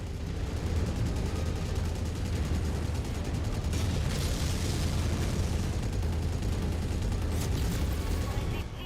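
A mech blows apart in MechWarrior 5: Mercenaries, a loud, dense roar of blasts and rumbling impacts layered over steady gunfire that fills the whole stretch without letup.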